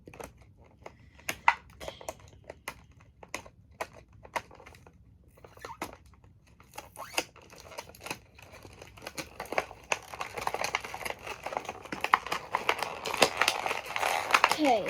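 Tape is pulled and peeled off toy packaging up close, starting with sparse crackles and small snaps and building into a steady, louder crinkling and tearing of plastic and cardboard. A voice speaks briefly.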